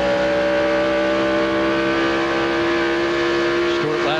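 A 1999 Winston Cup stock car, Dale Earnhardt Jr.'s, roars loudly with a sustained engine note held steady under throttle, then shifts pitch near the end as it goes through a corner, with a broadcast commentator talking over it.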